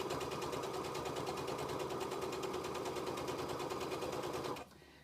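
A sewing machine stitches a flannel washcloth, running in a steady fast rhythmic whir close up for several seconds before stopping abruptly.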